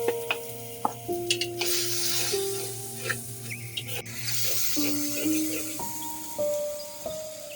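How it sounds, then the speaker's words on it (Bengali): Spice paste frying in a pan with a little water added for prawn and fish curry, soft sizzling under repeated stirring and scraping, close and fairly quiet. "এখন সামান্য পানি দিয়ে মশলাটা কষিয়ে নেব।"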